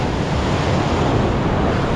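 Heavy surf crashes and roars continuously, a dense broadband wash of waves with wind buffeting the microphone throughout.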